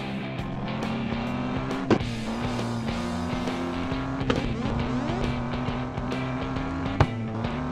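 A racing car accelerates in a Paw Patrol car video game at a water park, its engine droning steadily and rising in pitch, with a few sharp knocks, and no talking.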